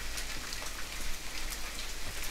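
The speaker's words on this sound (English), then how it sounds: "now the rain comes out to wash it away" Steady rain falls in the survival video game The Forest, a dense, even hiss of drops spread across the whole clip with no voices over it.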